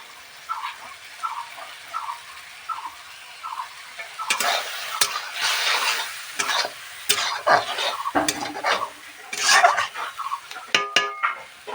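Tomatoes with mustard and salt fry in a pan, first a faint regular ticking, then loud stirring scrapes and clinks of a utensil against the pan over a crackling sizzle, close and uneven with no talking.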